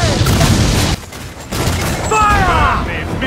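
Mortar fire in the video game Assassin's Creed Black Flag: loud booming blasts and rumbling bombardment, a brief lull near the middle, then heavy explosions resume with whistling, ringing tones over the din.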